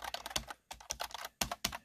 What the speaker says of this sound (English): The keys are extremely loud.